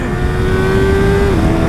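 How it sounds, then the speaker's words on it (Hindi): A Yamaha R3 motorcycle with a quick shifter and aftermarket ECU runs hard at full throttle, giving a loud, steady engine drone with a rising tone that drops suddenly near the end as a gear shift comes in, with no talk. "So let's go full throttle, let's test the quick shifter."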